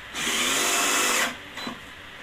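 A power tool used to assemble a room space-saver furniture piece whirs loudly at close range in one sustained burst of about a second, then stops, followed by a short faint blip.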